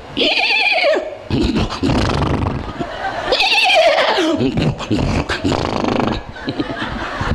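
A voice imitates a horse neighing, with high whinny-like cries repeated several times in a loud, close run of vocal sounds.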